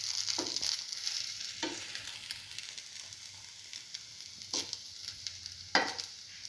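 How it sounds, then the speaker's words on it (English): Bread dipped in an egg, chili and tomato mixture sizzles steadily in a frying pan, with a few sharp scraping taps as it is moved around, no voices. "and let it fry"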